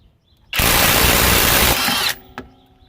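Kobalt 24V right angle impact wrench working a nut: one loud, close burst of rapid hammering whir lasting about a second and a half, then stopping, with a brief clack after.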